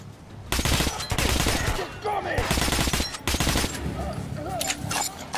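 Gunfire from the shooter game Metro Last Light Redux, with loud, close bursts and rapid volleys carrying on almost without a break and mixed with game sounds.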